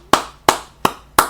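Hand clapping by a podcast host on a hockey show, four single sharp claps spaced evenly about a third of a second apart, close and crisp against a quiet background.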